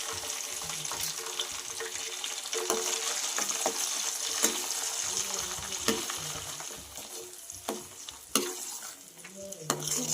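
Homemade hair oil is stirred in a pan with blended aloe vera gel. The mixture sizzles softly under repeated scraping and stirring strokes, with small clinks scattered through it, and no one speaks.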